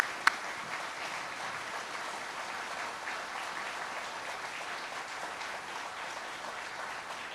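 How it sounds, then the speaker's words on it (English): An audience applauds the 3rd Marine Aircraft Wing Band at a Marine Corps El Toro Air Station event, steady dense clapping from many hands sustained for several seconds at moderate distance, a sharp tap at the start. "I just want to give the round of applause to our band members here."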